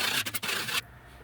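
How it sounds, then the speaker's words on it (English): Scraping high spots off dried joint compound on a patched wall, a brief close rasping scrape with a few quick strokes before stopping abruptly, no voices. "So when it's all dry, just scrape off any high spots."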